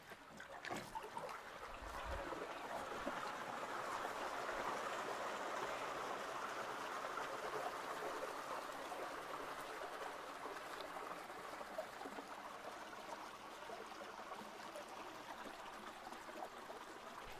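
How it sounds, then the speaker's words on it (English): Water rushes steadily from a bathroom pipe outlet during a cottage restoration, a continuous close gushing and splashing that begins after a short clatter and holds for the rest of the clip. "I'm gonna come and see the fun explosion of water."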